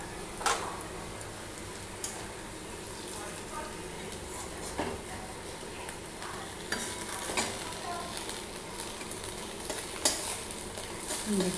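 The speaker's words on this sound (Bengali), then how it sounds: "প্রথমে কড়াইতে খুবই কম তেল দিয়ে বড়াগুলো আস্তে আস্তে ছাড়তে হয়" Potato fritters fry in a little oil in a wok with a steady sizzle, broken by sharp ticks and clicks of a utensil against the pan, moderately loud and close throughout, while someone talks over it.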